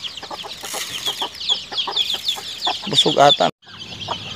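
Native chicken hens on a backyard farm cluck repeatedly in a busy, overlapping chorus, with a person speaking briefly amid the birds before a short pause.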